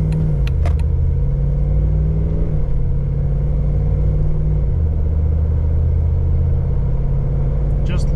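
Car pulling away at light throttle with an 8HP70 automatic gearbox, a low steady engine drone that drops in pitch at each of two shifts, heard from inside the cabin with a few brief clicks.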